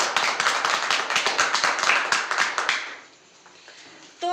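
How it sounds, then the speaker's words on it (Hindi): Audience clapping in a room, a burst of quick, fairly close hand claps for about three seconds before fading out into quiet. "उनके नाम पर एक जोरदार ताली हो जाए"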